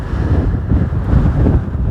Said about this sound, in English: too windy